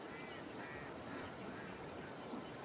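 Ducks quacking in the Hunting Simulator 2 video game during a duck hunt, a steady wash of game ambience with faint, scattered calls and no talk.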